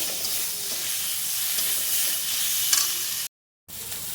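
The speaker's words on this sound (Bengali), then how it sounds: "তো দেখো এবার টমেটোটা দিয়ে দিলাম একটু নুন দিয়ে দেবো দিয়ে ভালো করে ভেজে নেব" Tomatoes with salt frying in a pan after ginger and garlic: a loud, steady hiss and sizzle close up, with light stirring scrapes, cut by a brief silent gap near the end, no talk.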